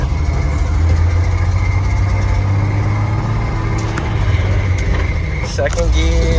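A rusty old Ford truck, back on the road after twenty years of sitting, drives with a loud, steady engine drone and rattling cab noise. The engine pitch shifts near the end as the driver works through the gears.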